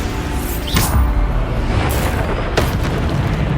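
Bombarda blasting spell explosions in Hogwarts Legacy, loud booming blasts with rushing whooshes, several bursts landing in quick succession over a dense, roaring background.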